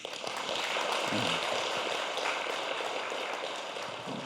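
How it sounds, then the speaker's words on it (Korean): A small audience at a Buddhist talk claps together in a soft, sustained patter, faint and steady throughout. "우리 힘내시라고 박수 한번."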